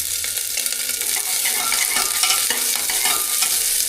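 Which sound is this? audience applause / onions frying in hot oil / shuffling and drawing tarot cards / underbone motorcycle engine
onions frying in hot oil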